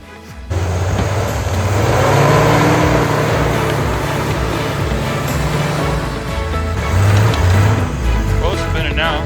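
A vehicle on liquid-filled tires spins its wheels, a loud sustained engine roar with rising and falling revs and tire churn, close by, with a voice talking over it.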